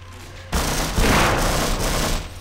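Enemy gunfire in the video game Half-Life: Source, a loud close burst of rapid automatic shots that breaks in suddenly, holds as a dense sustained rattle with heavy booming, then tails off.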